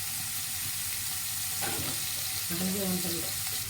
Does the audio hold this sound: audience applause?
no